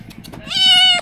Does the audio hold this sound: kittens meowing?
yes